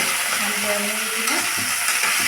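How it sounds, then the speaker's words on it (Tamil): Eggplant frying in hot oil for a gravy gives a loud, steady, close sizzle throughout, with a faint voice-like tone briefly under the hiss. "நம்ம அந்த கத்திரிக்காயை கொஞ்சம் எண்ணெயில் பொரிச்சு எடுத்துக்கலாங்க"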